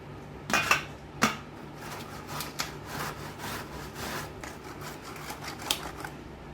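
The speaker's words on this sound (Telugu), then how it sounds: "ఇలా ఒక గ్రేటర్ని పెట్టుకొని దాంట్లో మామిడికాయని తురుముకోవాలి" Raw mango rasped against a metal grater, a close, faint run of scratchy strokes with a couple of sharper knocks near the start, the strokes then settling into light repeated scraping with no voices.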